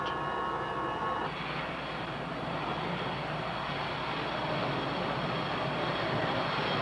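An airliner's engines whine and rumble steadily as the plane taxis toward runway 27 right, a continuous loud cabin-level drone with a brief higher tone at the start, no voices.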